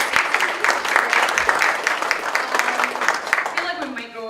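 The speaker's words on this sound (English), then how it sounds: "let's give Harini another round of applause" Conference audience at a food recovery summit breakout session applauding a speaker, steady clapping from a roomful of people that fades near the end as a voice begins.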